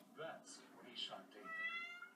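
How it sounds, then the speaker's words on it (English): A house cat meows several times up close, drawn-out tonal cries in quick succession, quiet overall. "that little meowing baby"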